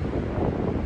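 Strong wind buffeting the microphone on open Dartmoor moorland, a loud, continuous low roar with rumbling gusts and no speech.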